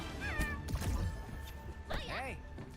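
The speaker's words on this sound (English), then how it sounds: "Look at this cat." A cat in Battlefield 6 gives a couple of rising, wavering meows, mixed with game sounds, a steady tone and a thud or two, with a person talking over it.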